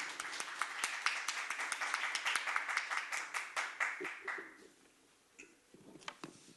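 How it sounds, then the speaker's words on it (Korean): An audience claps loudly and steadily to welcome a speaker to the stage at a Korean business forum on trade strategy. The applause fades out near the end, leaving scattered final claps. "큰 박수로 환영해 주십시오."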